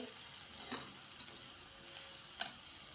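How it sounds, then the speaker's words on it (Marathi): Onions sizzle quietly in a pan, a soft continuous crackle with a few louder scrapes of stirring. "कांदा टाकून परतून घ्यायचा आहे आपल्याला"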